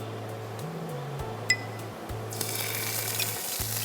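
Ginger and cumin fry in a pan with a low, steady sizzle that builds into a brighter hiss, marked by a single metallic clink of a spoon and a faint steady hum underneath.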